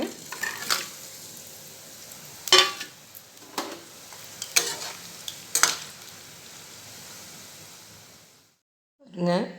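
Uppu seedai, small rice dough balls, drop into hot oil and fry with a steady sizzle, broken by a few sharp clinks and stirring bursts before the noise cuts off briefly.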